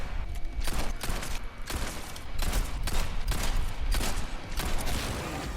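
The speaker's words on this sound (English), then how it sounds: "After finding him, we shoot him multiple times." Pistol shots from the Separate Ways video game, a rapid run of sharp cracks in an irregular burst of about ten to twelve shots, loud and close with no talk.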